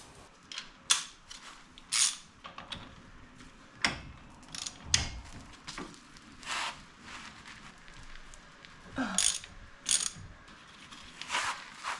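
A ratchet works loose the CV nut on a 2014 Ford F150 front end: irregular bursts of quick metallic clicking, some sharp clanks and short pauses between pulls, fairly close and quiet, no talk.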